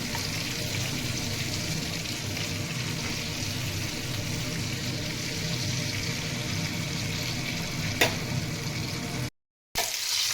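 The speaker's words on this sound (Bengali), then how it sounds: "তা হাই ফ্লেমে ভাজা যাবে না, মিডিয়াম ফ্লেমে আস্তে আস্তে ভাজতে হবে।" Chicken pieces fry in a pan over a medium flame, a steady close sizzle and crackle running throughout with one brief louder pop near the end and a short cut of silence.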